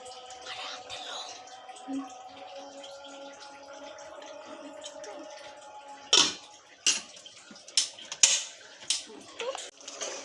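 Beef curry is stirred in a pot and then covered, heard as a low simmer at first and then several sharp metallic clanks and scrapes from a spoon and lid near the end, with faint background noise.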